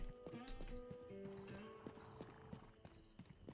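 Video game horses in Rustler: rhythmic hoof clip-clops on a road with a rising whinny and neighs near the start, fairly close and clear, with faint talking in the background.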